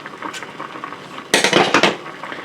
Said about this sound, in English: I'm going to add some steel wool to this pot of boiling salty water.